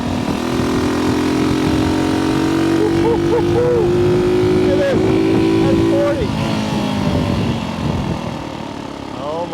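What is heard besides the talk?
vintage 1964 Honda C200 motorcycle engine revving while riding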